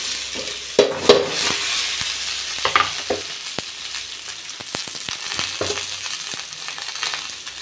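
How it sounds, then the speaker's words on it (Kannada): Cumin, onion, curry leaves and green chillies frying in hot oil for a village-style basaru, a loud steady sizzle with sharp crackles and pops, plus a few stirring scrapes. "ಜೀರಿಗೆ, ಈರುಳ್ಳಿ, ಕರಿಬೇವಿನ ಸೊಪ್ಪು, ಮೆಣಸಿನ್ಕಾಯಿ ಹಾಕ್ತಾಯಿದ್ದೀನಿ."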